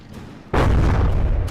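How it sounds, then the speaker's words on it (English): Tank turret blowing up in the From the Depths game, a single loud sudden boom after a quiet start, followed by a sustained rumbling roar. "And now its turret just blew up."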